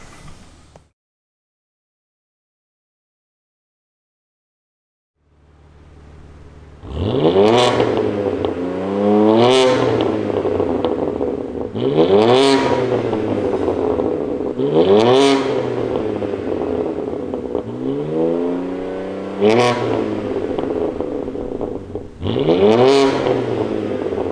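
A BMW G80 M3 fitted with an Active Autowerke valved rear exhaust starts up after a brief silence and then revs loudly in about six sharp, evenly spaced blips, each one followed by a crackling fall back to idle.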